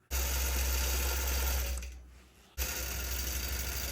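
An embroidery machine stitches a horse mane in beige thread with a loud, steady mechanical whir. It slows and fades briefly, then abruptly resumes at full speed, with no voices.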